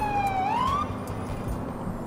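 A police car siren wails in the video game GTA 4, one rising-and-falling electronic sweep over dense traffic and engine rumble, fairly loud and close.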